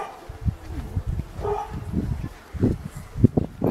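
A dog barks several times in short, sharp bursts at a caravan park in Mablethorpe, fairly close by, with rustling and a few quiet voices in the background.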